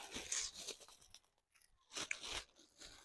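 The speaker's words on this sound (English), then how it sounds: "I'm gonna tear up some plastic for start the fire" Plastic is torn up by hand for starting a fire outdoors, making close crackling, ripping bursts in short uneven spurts separated by a brief pause.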